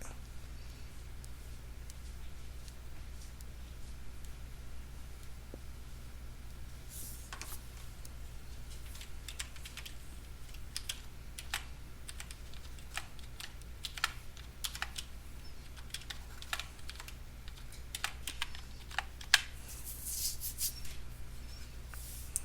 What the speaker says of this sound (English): Type in your password if you need it.